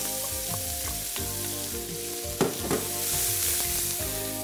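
Garlic and onion fry gently in a pan with a little leftover fat and flour, a steady soft sizzle running throughout, broken by a few sharp spoon scrapes and stirring knocks near the middle.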